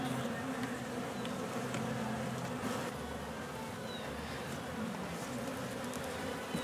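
A dense, continuous drone of many honey bees buzzing up close during a hive inspection fills the air, steady and unbroken with no talking.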